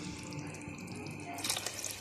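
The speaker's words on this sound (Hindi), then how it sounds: "तो ये अब देखें, इसमें हम पानी डाल रहे हैं।" Water poured from a vessel onto rice in a pot while making matar pulao: a continuous close splashing and trickling that grows brighter and heavier toward the end.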